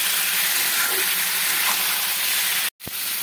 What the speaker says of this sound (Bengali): আলু পেঁপেটাকে একটু মশলার সঙ্গে কষিয়ে নেব